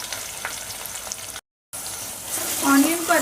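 Onion and green chilli tipped into a hot, sizzling tadka for dhaba-style butter chicken and dal fry; steady frying crackle, a brief cut to silence, then a louder burst of sizzle as the onion hits the oil.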